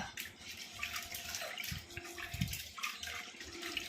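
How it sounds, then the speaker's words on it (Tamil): Soft sloshing and trickling water with small splashes and drips, quiet and close, as lentils are rinsed by hand in a bowl. "நல்லா தண்ணி ஊற்றி ஃபஸ்ட்டு கழுவிக்கலாம்"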